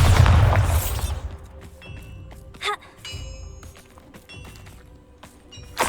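A Bombarda spell detonates in Hogwarts Legacy, opening with a loud low boom that fades quickly, followed by scattered faint thuds and clatters.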